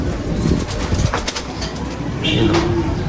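A bird coos and flutters close by amid background chatter and noise, with a brief higher chirp near the end.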